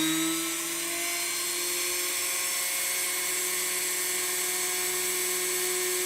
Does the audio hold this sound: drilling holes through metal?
yes